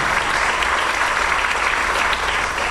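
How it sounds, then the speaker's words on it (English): Steady, full applause from an audience at a 4th and 5th grade school band and string concert, many hands clapping evenly throughout with no talk over it. "A round of applause for him."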